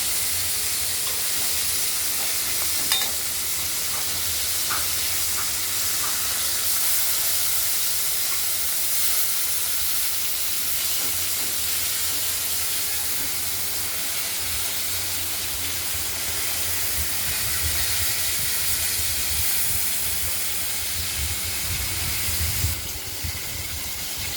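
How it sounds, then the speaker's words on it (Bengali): Pieces of katla fish fry in a pan, giving a steady, dense hiss and sizzle that holds at an even level throughout, close and fairly loud, with no talk. "আর এক পিস ভাজা করছি।"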